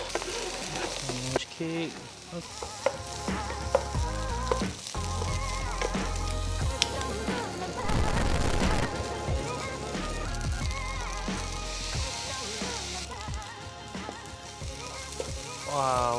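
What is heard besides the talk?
stir-frying egg fried rice with carrot in a pan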